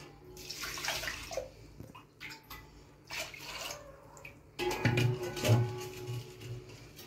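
Water pours and splashes onto soaking lentils in a container in two bursts, with a quieter gap of drips and handling between them, close by.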